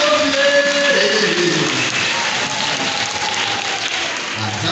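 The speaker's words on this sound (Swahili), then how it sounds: "Makofi kwa mwalimu." A church congregation at a school's term-opening prayers claps for a teacher, a dense, steady wash of many hands that fills the space, with faint voices and tones threaded through.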